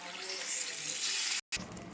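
A loud, steady rush of water splashing into chicken cooking in a hot pan, sizzling and hissing throughout before a brief gap and a settling bubble.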